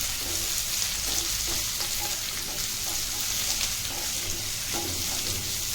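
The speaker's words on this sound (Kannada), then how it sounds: "ಚೆನ್ನಾಗಿ ಮಿಕ್ಸ್ ಮಾಡಿ ಫ್ರೈ ಮಾಡಿ." Vegetables with raw green peas frying in a pan, a dense, steady sizzle close up, with faint scrapes of stirring throughout and no voices.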